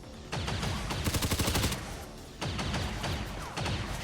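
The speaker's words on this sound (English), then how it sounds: "So flashbang basically right where that civilian is" Flashbang grenade going off amid heavy gunfire in XCOM 2, with a dense burst of rapid, sharp cracks and booms that crowds the clip before a steadier clatter of shots carries on.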